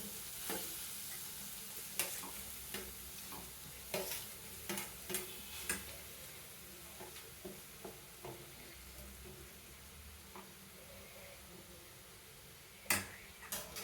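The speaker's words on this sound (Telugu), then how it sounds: "దీన్ని బాగా ఫ్రై చేయండి ఫ్రెండ్స్ స్లో ఫ్లేమ్లో పెట్టి" Grated carrot fries quietly in oil, a soft steady sizzle punctuated by sharp clicks and scrapes of a spoon against the pan.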